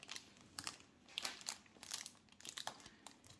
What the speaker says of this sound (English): So really the first thing here would be to remove this tape here.